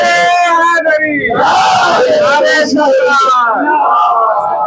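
A large crowd at a Shia majlis gathering roars a slogan in unison, loud and sustained, with voices rising and falling together and close shouting over a dense babble of many people.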